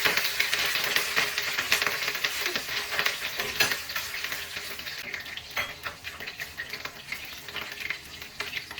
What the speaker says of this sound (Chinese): 放入猪油增香， 用葱花和鸡皮爆过。